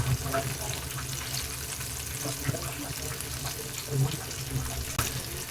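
KFC-style chicken pieces frying in hot oil on a medium flame, a continuous dense bubbling sizzle, fairly quiet and close, with occasional light knocks and a voice speaking faintly now and then.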